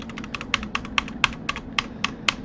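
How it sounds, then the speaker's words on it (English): Rapid, crisp presses of the Windows key on a computer keyboard, a dozen or so clicks in quick succession, close and clear with no talking. "my Windows key on my keyboard, I'm continuously pressing it right now."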